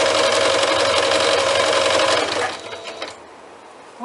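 Sewing machine stitching a bag strap, running loud and steady with a continuous motor whir for about two seconds, then slowing and stopping, leaving faint room noise.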